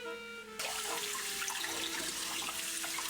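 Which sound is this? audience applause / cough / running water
running water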